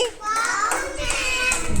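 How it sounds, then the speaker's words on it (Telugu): Young children clapping their hands during a classroom matching game, a few quick claps mixed with children's voices. "క్లాప్స్."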